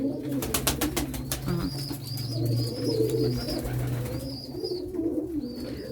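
Domestic pigeons, local and crossbred birds, coo repeatedly in a loft, with soft overlapping calls throughout, plus occasional higher chirps and faint rustling in the background.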